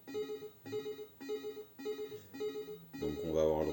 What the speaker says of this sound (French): Donc on va avoir le droit à cette petite sonnerie.